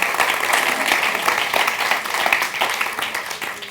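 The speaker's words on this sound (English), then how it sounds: "Can I have a round of applause for our panel, please?" Conference audience applauds a discussion panel with steady, dense clapping from a full hall that holds an even level throughout and tapers slightly at the end, with no voices over it.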